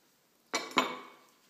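Semolina and flour being stirred in a bowl for batbout flatbread dough: two close clinks of a utensil against the bowl, the second ringing briefly before fading, with no talk.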